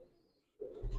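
Soft cooing from pigeons kept by a fancier, faint at first, then a louder, closer coo joined by low rustling.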